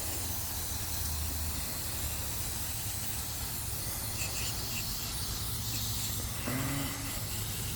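MAF sensor cleaner sprays steadily from an aerosol can through a thin straw onto a Silverado or Sierra mass airflow sensor, a continuous close hiss filling the whole stretch with a brief clunk near the end.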